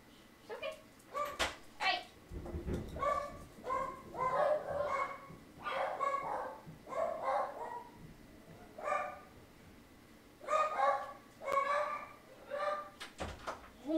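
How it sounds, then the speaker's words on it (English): Several dogs bark in repeated bursts across the stretch, fairly close, during a thunderstorm indoors, with a door or cupboard knocking in between and some low rumble underneath. "And my dogs are barking."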